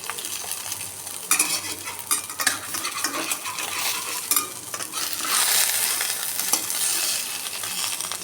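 An egg frying in a wok gives a loud, close, steady sizzle, with scraping spatula strokes and light metallic clinks from stirring and turning it. No one speaks.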